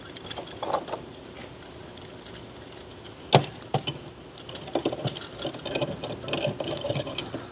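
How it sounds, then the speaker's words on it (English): A clamp is ratcheted and fastened onto a bendable wood floor level rail, close irregular clicking and clattering bursts with a sharp knock midway, scattered over a quiet room background without speech. "So we'll throw a clamp on this one, throw a clamp, bend it around here."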